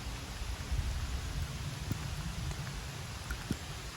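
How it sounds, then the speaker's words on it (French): Rain falls on a golf course as a steady, dense hiss with a few scattered drop taps, moderately loud and continuous, with no talking. "Et la pluie revient."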